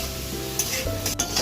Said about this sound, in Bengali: এগুলোকে আমি হালকা নুন দিয়ে সতে করে নেব, বেশি ভাজা যাবে না।